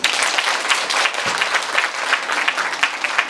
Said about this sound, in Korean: 고맙습니다.